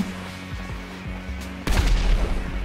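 Gunfire and explosions in GTA V Online during a tank battle, with a few rapid pulsing shots followed by a loud heavy boom that leaves a sustained rumbling roar.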